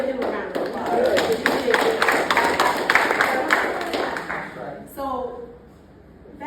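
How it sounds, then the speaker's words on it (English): A conference audience at a violence prevention event in Boston claps in a brisk patter, with voices and cheering mixed in, before it stops abruptly and a voice speaks. "So give him a round of applause."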